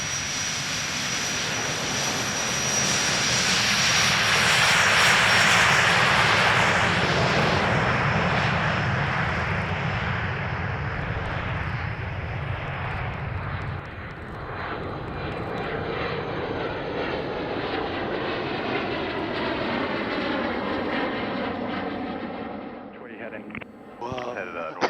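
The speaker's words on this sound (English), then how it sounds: "The left seat of a Cirrus SF-50 Vision jet." Cockpit of a Cirrus SF-50 Vision jet, with a steady, loud engine roar and airflow rumble filling the whole stretch, easing slightly toward the end while voices talk over it.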